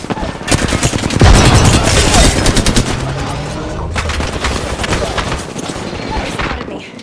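Video game shootout with rapid automatic gunfire bursts and heavy booming shots, loud and close, a dense volley early that settles into sustained firing.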